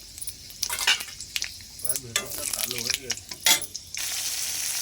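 Panch phoron and dry red chillies go into hot oil in a pan, crackling and sizzling close up with sharp popping bursts and rattling stirs, and a steady hiss of frying takes over at the end.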